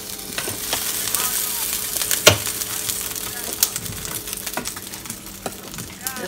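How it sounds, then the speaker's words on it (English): Grits being stirred in a pot beside pancakes cooking on a breakfast stove, a spoon scraping and mixing steadily over a continuous close sizzle, with occasional clinks. "So I'm just gonna mix my grits a little bit more."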